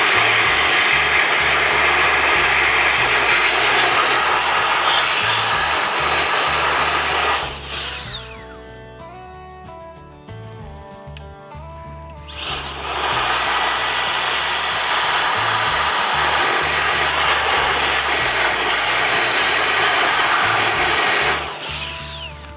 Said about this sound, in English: get the blower or vacuum cleaner